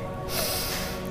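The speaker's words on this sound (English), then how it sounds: "Nice deep inhales and exhales." A single deep, forceful breath during a stretching workout for shoulder and hip mobility, a close, airy rush through the nose lasting about a second, heard alone.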